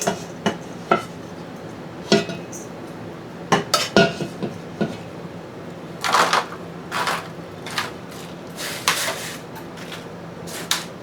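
Hamburger meat dropped into an all-metal, oven-rated pot for shepherd's pie, giving a string of sharp metallic clinks and scrapes with irregular spacing, loud and close, and thicker clusters of knocks partway through. No voices.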